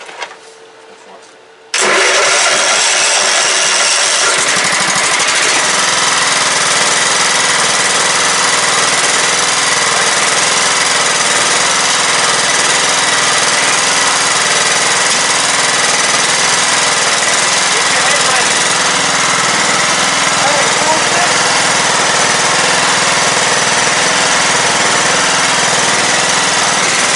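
A late-1990s Craftsman LT 1000 lawn tractor with a 15.5 hp Kohler Command OHV single-cylinder engine cranks and fires after a quiet moment, then roars loudly and steadily at close range with people shouting over it.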